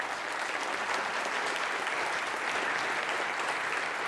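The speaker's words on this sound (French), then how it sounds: "Et je voudrais que vous applaudissiez vous." Dense, even audience applause at the close of a live history talk on the Russian Revolution, a steady wash of clapping from a roomful of people that holds level for the whole stretch.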